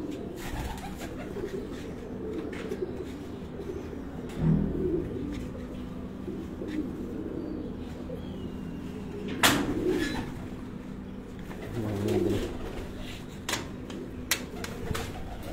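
Soft pigeon coos recur in short low bursts over a steady background hum, with a few sharp knocks and clicks scattered throughout, at a pigeon flying competition in Gujrat.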